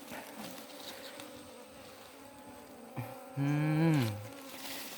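Cavity-nesting Asian honey bees swarm around a nest built under a box, a faint steady buzz rising into one loud, close bee drone that passes by for about a second before fading back.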